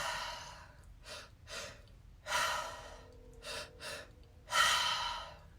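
Slow, deep deliberate breaths from one person, close and clear: several long inhales and exhales in an uneven rhythm, the last one loudest, with no talking.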